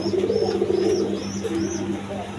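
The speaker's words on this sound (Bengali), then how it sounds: "দর্শকবৃন্দ দেখেন এখানে এক পেয়ার রাজগোল্লা কবুতর" A pair of Rajgolla pigeons coos in a series of low, rolling, throaty calls close by, over a steady murmur of background noise.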